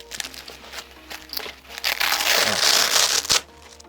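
Velcro cummerbund strips rip away from a Swiss Arms quick-detach plate carrier in a series of loud, close, crackling tears, building to one long sustained rip that ends in a sharp final pull.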